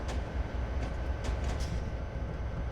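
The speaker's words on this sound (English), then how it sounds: "that's an SD40 behind us" A freight train hauled by ES44AC and SD40 locomotives climbs slowly through Cajon Pass in a train simulator game, giving a steady low rolling rumble with a few faint higher squeals, quiet and continuous.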